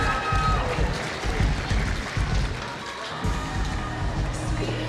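Audience applause at a springtime reunion dinner, a steady wash of clapping mixed with crowd murmur and some voices, filling the room throughout.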